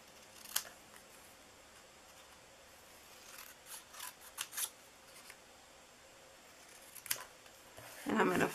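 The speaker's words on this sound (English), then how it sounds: "I'm going to just hand cut this" Hand-held scissors snip through stamped paper for an Easter bunny treat bag, giving a few quiet, scattered cuts and a crisp rustle of paper at the end.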